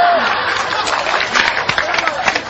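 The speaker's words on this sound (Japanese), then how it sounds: "店中が大拍手。" Whole-shop applause and cheering in a Greek dance restaurant after a long dance session, a dense wash of clapping and crowd noise filling the room, with voices mixed in.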